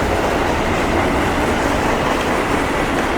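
MARC and CSX trains passing in Germantown, Maryland, including a Maryland Midland hopper, a loud continuous rumble and roar of rolling freight cars close by with no break.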